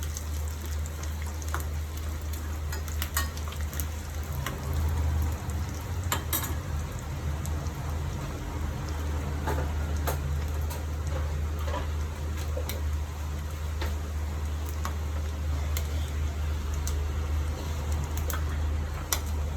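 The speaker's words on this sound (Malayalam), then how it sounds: "തേങ്ങ ഒന്ന് വറുത്തെടുക്കാം." Coconut pieces fry in ghee in a pan with a steady, even sizzle and occasional small pops and stirring clicks, close and continuous with no talking.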